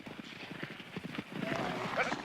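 Horse hooves clip-clop in a rhythmic run of muffled thuds in a Western scene with a cowboy, mixed with background noise and a rising hiss toward the end.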